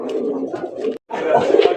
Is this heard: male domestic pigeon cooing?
yes